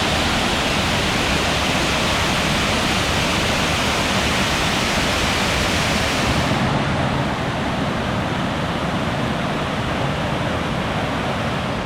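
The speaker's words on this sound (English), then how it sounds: "that's a hell of a waterfall" A big waterfall on the Falls Trail at Ricketts Glen, Pennsylvania, gives a steady, loud, broadband rush of falling water, continuous throughout, with no voices.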